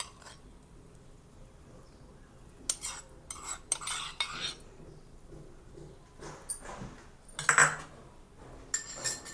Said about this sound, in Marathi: आता मिक्स करूया चांगलं।